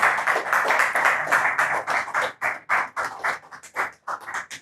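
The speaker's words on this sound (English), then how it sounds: "can we give one more round of applause" An in-person lecture audience gives a round of applause, scattered individual claps that start dense and thin into uneven, separate bursts.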